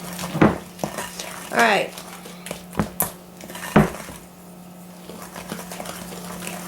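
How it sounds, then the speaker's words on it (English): Utensil scraping and clinking in a bowl while eggs are beaten into cookie dough for Amish sugar cookies, in several short bursts with a brief spoken word. "get those eggs beat in there"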